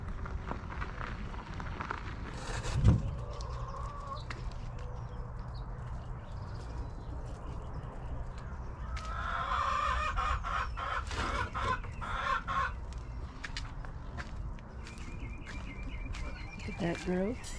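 Chickens cluck and a rooster calls faintly amid morning farm chores, with scattered bursts of clucking over a noisy outdoor background and a brief thump near the start.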